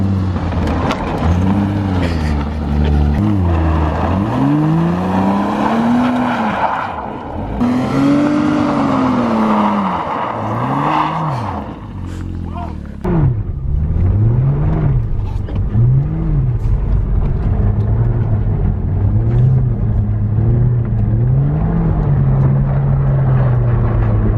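A Porsche Cayman sliding sideways in a drift, its engine wailing and swooping up and down in pitch as the throttle is worked, loud and sustained over roughly twenty seconds with no voices.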